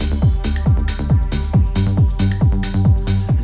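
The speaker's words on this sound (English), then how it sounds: "So here's kind of the bass line that I've written with the old elements." An electronic track bass line built from old song elements plays as a loud, steady pattern of punchy kicks and pitched bass stabs with crisp percussive hits on top.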